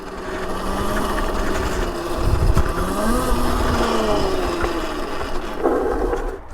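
Aipas S1 electric dirt bike riding off-road, a steady whirring motor drone with wind and rolling tire noise throughout, pitch shifting slightly as speed changes, with a brief bump near the end.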